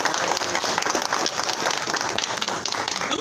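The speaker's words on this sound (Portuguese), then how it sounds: "Salva de palmas ao Senhor Jesus." Church congregation clapping together in praise, a fairly faint, dense patter of hands that keeps going steadily with no pause, and no voices standing out.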